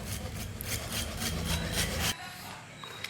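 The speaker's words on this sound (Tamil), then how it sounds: "இந்த பிவிசி பைப்பை நம்ம கட் பண்ணுறோம்" A length of PVC pipe is cut with a steady rasping sawing sound, close and fairly loud, that runs for about two seconds and then stops abruptly, leaving a quiet room.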